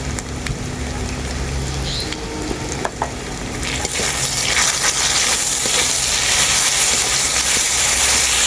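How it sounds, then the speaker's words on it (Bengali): Water is splashed into a hot pan of ground cumin, coriander, pepper, dried chilli paste and turmeric for a Bengali jackfruit dish. A loud, broad hiss of sizzling and frying swells and holds steady, with faint stirring scrapes underneath. "অল্প একটু জল দিয়ে দেবো মশলা ভালো করে কষানোর জন্য"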